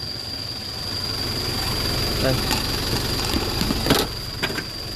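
A Kia K3000 truck from 2012 with its diesel engine idling, a steady loud rumble throughout with a constant high whine, a few knocks and a brief word spoken over it.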